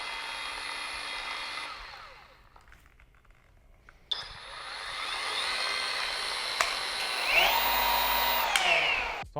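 A Flex 24V cordless rotary polisher runs at speed 1 with a steady whirring motor hum that drops away briefly, then returns stronger and holds, close and fairly loud.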